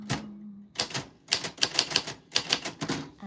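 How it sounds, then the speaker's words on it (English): A typewriter types out a name in quick bursts of crisp, close mechanical clacks, with a short ringing tone at the start. "That is what your name sounds like on the typewriter bell."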